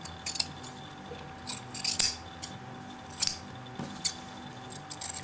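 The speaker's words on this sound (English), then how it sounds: "Cut back your seam allowance" Scissors trimming back a fabric seam allowance on a sewn collar with piping, a series of quiet, crisp snips in irregular bursts, close and with no talk.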